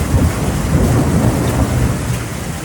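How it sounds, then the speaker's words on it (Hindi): Heavy rain pours down outdoors in Meghalaya as thunder rumbles through it, a dense, steady roar of loud, close downpour that holds without a break. "बारिश बहुत ज़्यादा है बाहर देखिए"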